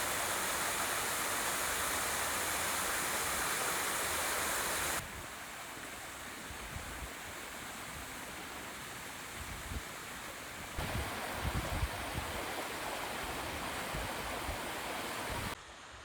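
Continuous roar of rushing water from a waterfall on a hillside hike in the Faroe Islands, steady and broadband with wind buffeting the microphone, shifting slightly in level as the position changes; no voices.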